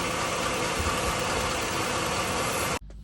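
A V8 truck engine with a misfire runs at a steady rough idle, loud and close, continuing alone before cutting off abruptly near the end.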